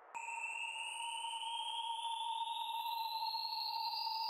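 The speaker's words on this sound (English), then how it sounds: "Or the sine riser." A sine riser effect for psytrance, a pure electronic tone that starts abruptly and holds steady with bright overtones slowly gliding upward.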